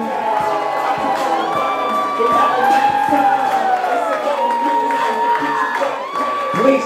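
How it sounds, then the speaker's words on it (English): Wedding guests at the Kinney Bungalow in Narragansett, Rhode Island cheer and whoop for the newlyweds, a loud, dense crowd roar with shouting voices throughout. "Let's give them a big hand!"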